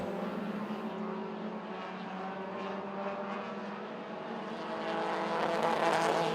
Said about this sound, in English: Eight cars on the speedway right now for the Dirt Draft Hot Laps 4.